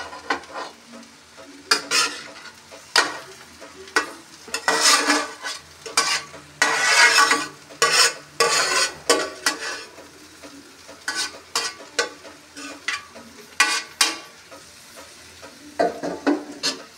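Peas, onion and egg for chowmein are stir-fried in a hot wok, with loud sizzling bursts and rhythmic scraping strokes of a spatula repeating close up throughout.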